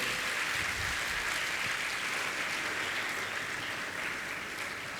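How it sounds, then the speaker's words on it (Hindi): Sustained applause from an audience at a Jain religious question-and-answer gathering in Indore, honouring a guest; steady, dense clapping continues throughout at moderate level with no speech over it. "ऐसी सुशीला जी पाटनी की जोरदार ताली बजाकर सम्मान करें।"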